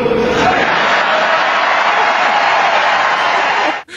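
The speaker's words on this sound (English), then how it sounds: "And the crowd goes wild." A debate audience roaring and cheering after Newt Gingrich's answer, a loud, sustained wall of crowd noise with applause that cuts off abruptly at the end.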